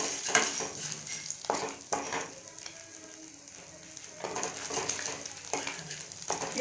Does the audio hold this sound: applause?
no